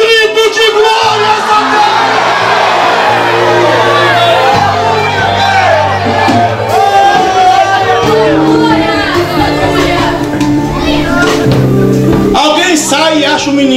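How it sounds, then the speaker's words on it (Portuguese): A church congregation at an evangelical youth gathering lets out a sustained cry of glory, many voices shouting and whooping together over steady music, loud and continuous throughout. "Abra a boca e dê um grito de glória!"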